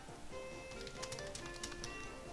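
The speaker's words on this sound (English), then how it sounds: "I'm typing and saying this at the same time." Typing on a keyboard, a quick run of light clicking keystrokes, fairly faint, over a soft background of steady game music tones.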